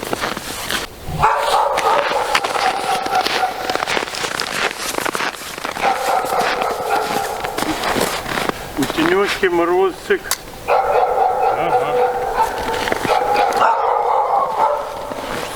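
Dogs bark repeatedly in the background while someone talks over them, with a brief whining yelp partway through.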